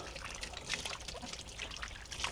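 Water trickles and splashes steadily while freshly harvested yuca is washed, the foamy, milky water dribbling close by in a soft continuous wash with no voices.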